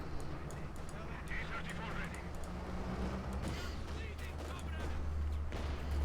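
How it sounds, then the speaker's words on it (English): Strafing-run gunfire from a Company of Heroes 2 match, OKW against Soviets on the Prabuty map, forms a dense, continuous rumble of battle noise flecked with crackling bursts, while a commentator talks over it. "Strafing run here."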